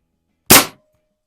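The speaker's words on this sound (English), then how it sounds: "I'm going to shoot down towards the bottom of that board" A Hatsan Model 95 air rifle fires a pellet into a board: one sharp, loud crack with a quick decay, alone in otherwise silent surroundings.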